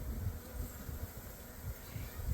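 Honeybees hum in an open beehive during a hive split inspection, a steady low, close drone with a soft swelling texture and no talking.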